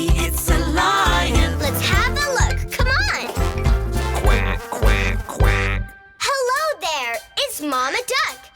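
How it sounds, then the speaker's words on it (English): A cartoon duck quacks repeatedly in a children's song about a mama duck swimming in a pond, with bright, rhythmic quacks mixed with a child-like sung voice and music. "Mama Duck, swimming in the pond"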